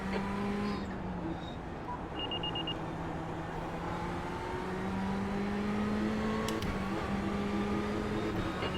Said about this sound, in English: There's a car approaching.